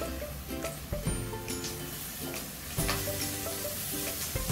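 Chopped onion and green chilli pieces frying over high heat for gongura mutton curry, a steady sizzle with a few sharp bursts, under a sustained tonal background.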